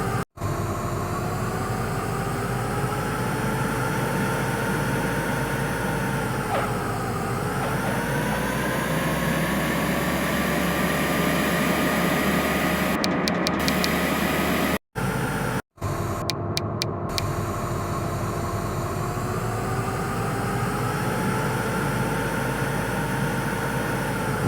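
Airliner engines in the RFS flight simulator game, a loud, continuous whine and roar during the takeoff roll with a pitch that slowly rises and dips, briefly cut by short dropouts.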